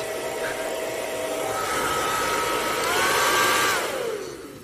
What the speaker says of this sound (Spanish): que era el puto secador